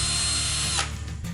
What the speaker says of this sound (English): pull the trigger, and it runs, quick and simple